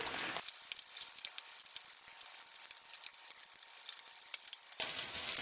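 Beaten eggs sizzle and get pushed around a hot pan for fried rice, a quiet steady frying hiss broken by faint scraping taps.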